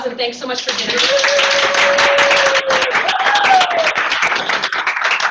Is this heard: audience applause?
yes